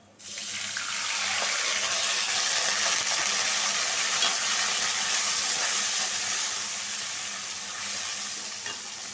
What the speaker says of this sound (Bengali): তেলের ভিতর পানি দিছি তো সেজন্য ছেদ করে